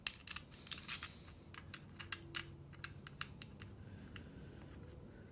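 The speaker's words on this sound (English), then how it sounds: "I'll go ahead and snug them up with the ratchet" A ratchet snugs up the distributor bolts on a 2000 Honda Accord, making quiet, close runs of quick metallic clicks in uneven bursts.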